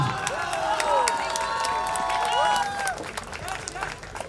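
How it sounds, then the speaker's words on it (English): Crowd at a semi-pro fight event applauds and cheers after a bout, with clapping and shouts mixed with whistles and raised voices, loud and sustained before easing off near the end. "Ladies and gentlemen, can we have a big round of applause for a beautiful fight, Mr. Jacob Lystrom."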